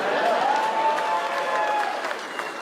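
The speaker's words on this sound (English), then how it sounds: "Some people clap" Applause and some cheering from a comedy club audience at a stand-up show, a moderate burst of clapping that carries on for a couple of seconds and thins slightly toward the end.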